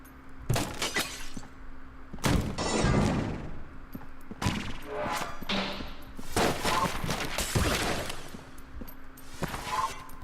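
Objects in a room of the video game Enter the Gungeon shattering and breaking in repeated loud crashing bursts, mixed with rapid gunfire, no talking.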